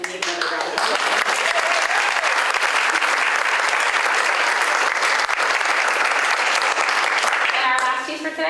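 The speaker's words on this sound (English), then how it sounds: "I think they definitely need another round of applause." Sustained applause from a school board meeting audience honoring student musicians, dense and steady clapping filling the room for about eight seconds before tapering off at the end.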